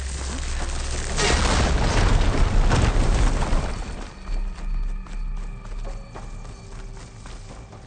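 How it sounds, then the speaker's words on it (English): An explosion in the video game Horizon Forbidden West booms loudly with a heavy rumbling burst that fades into scattered debris and ambient game sounds. "An explosion."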